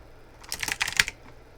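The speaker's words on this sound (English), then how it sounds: "type in what I'm typing in on screen" Fingers type a quick burst of keystrokes on a computer keyboard, a close, rapid cluster of clicky taps lasting under a second against near silence.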